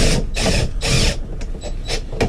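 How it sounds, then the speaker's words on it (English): A handheld power drill drives a screw into a radio mount inside a Class A RV, with several short whirring bursts separated by brief pauses, close and fairly loud. "Hold it tight again, and now put the drill in."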